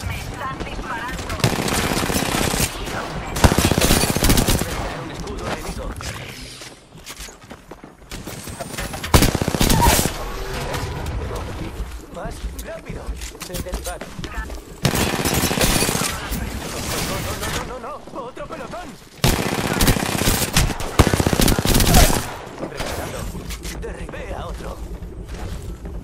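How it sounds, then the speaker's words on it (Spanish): Bursts of rapid automatic gunfire fire at the player in a video game, loud and repeated in several long volleys separated by short pauses, with a voice talking over the shooting. "Me están disparando."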